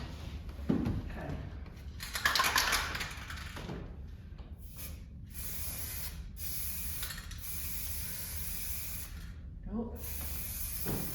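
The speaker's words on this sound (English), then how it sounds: "It's a very fine, it's a very fine spray." A spray paint can hisses in bursts while a cocktail cabinet is refinished, with several short and longer sprays close up, separated by pauses, and a brief spoken word.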